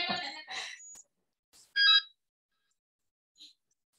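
A telephone ringing in a classroom, a few short bursts of a ringtone separated by silence, with no talk over it.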